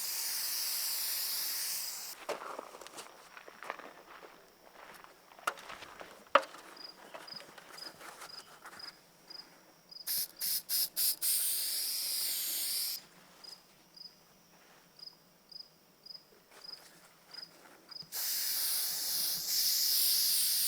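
Repeated bursts of broad, steady hissing from a spray adhesive nozzle, several seconds each, separated by quieter gaps with faint ticking and clatter, while making acoustic foam panels.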